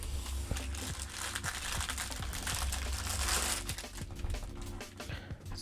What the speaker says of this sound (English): let's unwrap the case